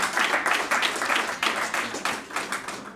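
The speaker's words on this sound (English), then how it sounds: "let us give a very heavy round of applause to the Indonesian presentations" An audience at a Kenya–Indonesia business forum applauds the Indonesian presentations, a dense steady round of many hands clapping in a hall, continuous and fairly close throughout.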